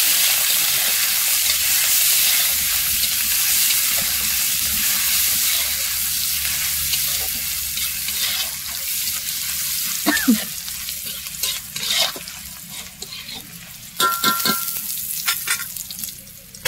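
Garlic and green chili, crushed together with five-spice leaves, frying in a pan before the greens go in: continuous loud sizzling, later broken by several sharp spatula scrapes and stirs.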